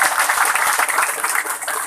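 An audience at an Islamic dhikr manaqib gathering applauds, with dense, continuous clapping that fills the room at steady loudness from start to finish.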